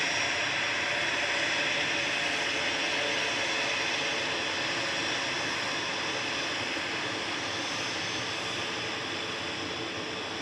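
A Jet2 Airbus A321 airliner takes off from Manchester Airport, its jet engines producing a loud, steady broadband roar that holds evenly throughout, with no talk over it.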